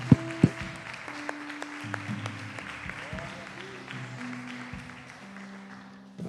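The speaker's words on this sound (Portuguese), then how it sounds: "Vamos aplaudir Jesus bem forte." A church congregation applauds in a steady wash of clapping, with a couple of sharp, loud claps at the start and sustained tones running beneath, while a voice speaks over it.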